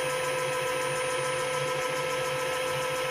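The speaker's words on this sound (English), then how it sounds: "you can see the motor starts spinning. It's very quiet and smooth running." An AC induction EV motor spins under throttle, giving off a steady, smooth electric whine with layered tonal hums. It is quiet and even throughout, with no voices.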